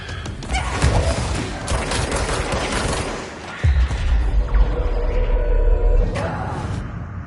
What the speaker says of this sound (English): Destroy the crystals.